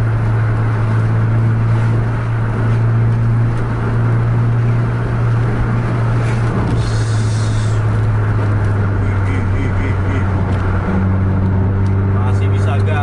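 A bus cruising on an open road with a steady low engine drone and rushing wind noise, loud and continuous throughout, with a voice talking over it.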